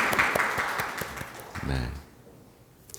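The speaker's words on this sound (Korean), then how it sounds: "박수 이렇게 한번 치겠습니다" A Catholic parish congregation claps briefly in church for its district and group leaders, a short burst of applause that fades into quiet within two seconds, with a voice briefly heard amid it.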